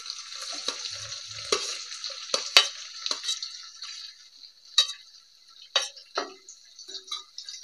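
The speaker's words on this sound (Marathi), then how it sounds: "कांदा आपल्याला चांगला लाल रंगावर तळून घ्यायचा आहे हा" Chopped onion frying in a pan for egg biryani alongside whole spices, a hissing sizzle broken by repeated spatula strokes and scraping clatters, close and intermittent with no talk.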